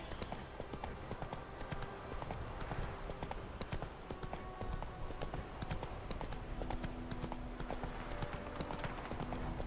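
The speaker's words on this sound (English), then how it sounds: "we're plodding along on the back of a horse that cannot seem to make it over a stone wall." A horse's hooves clip-clop at a steady plodding walk across ground in The Witcher 3: Wild Hunt, continuous and moderately loud over a faint game ambience.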